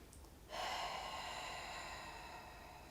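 A person takes a deep breath while sitting in a chair during a hip and pelvic floor stretch. One long, steady breath starts suddenly and is heard close and soft, with no talking.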